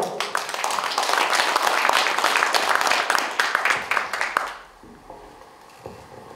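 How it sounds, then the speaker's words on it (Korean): Audience applause at the 2nd Art Korea Broadcasting Culture and Arts Awards ceremony greets an arriving guest, a loud, dense burst of clapping that tapers off after about four and a half seconds into quieter room sound. "여러분 박수로 맞아주시죠"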